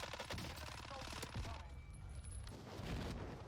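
Fennec submachine gun firing in the Warzone video game, rapid bursts of automatic gunfire with dense rattling shots, fairly quiet in the mix, with no talk.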